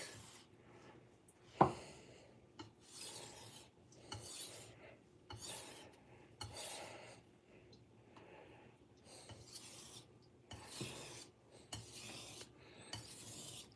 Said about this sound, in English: I'm going to do some edge trailing strokes to weaken that burr